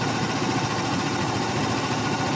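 A Yamaha BWS Zuma 125 scooter engine idles steadily and close by with a buzzing, even drone, its speed easing down gradually as the mixture leans out.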